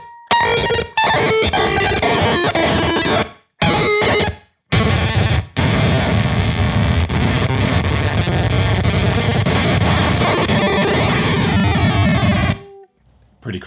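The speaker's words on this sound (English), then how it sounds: "I love the gatedness of this glitchy octave." Heavily distorted, glitchy gated octave fuzz from a MOD Audio Hip2B fuzz and bit crusher pedal: a loud, dense crunchy wall of sound broken by abrupt gated cutouts and stutters, then stopping dead near the end.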